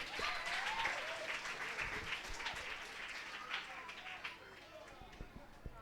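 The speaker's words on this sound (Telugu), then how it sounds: "సో మొత్తానికి వీళ్ళిద్దరికీ ఒకసారి గట్టిగా చప్పట్లు." A crowd at a vacation Bible school gathering claps loudly for two children, a dense sustained burst of applause with voices talking and calling out over it, easing off slightly toward the end.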